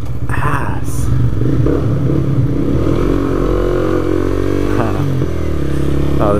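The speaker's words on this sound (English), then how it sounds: "Oh, this bike does sound good in a tunnel." A Honda CBR125R motorcycle engine drones steadily while riding through a tunnel, loud and close with a sustained echoing hum that rises slightly in revs, wind and road rumble underneath.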